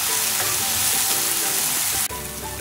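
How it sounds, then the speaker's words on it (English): Finely chopped garlic and sliced green chilies sizzle and fry in a hot pan, a steady loud crackle throughout with brief stirring sounds and a slight drop in intensity near the end. "Five garlic cloves finely chopped and about 3 to 4 green chilies finely sliced. I'm going to let this cook"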